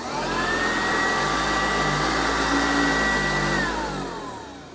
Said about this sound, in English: There's the sound of the motor.